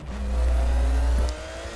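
A race car in a racing video game holds a loud, steady engine drone that eases back near the end as the car brakes and turns, with no voices.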